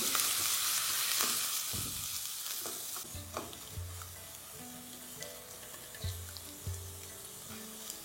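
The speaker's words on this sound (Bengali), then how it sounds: "এবার পেঁয়াজটার মধ্যে যতক্ষণ একটু হালকা কালার আসছে ততক্ষণ এটাকে আপনারা কুক করতে থাকুন" Chopped onions fry and sizzle in a hot pan over high flame for a chicken stew, a steady crackle with occasional stirring scrapes and clinks of a spoon against the pan.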